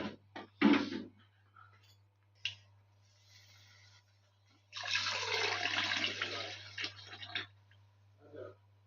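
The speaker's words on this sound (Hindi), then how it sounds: "इसके साथ ही हम पानी ऐड कर देंगे" Water gushes steadily into a cooking pot of rice for a few seconds, preceded by faint clinks and small splashes in a quiet room.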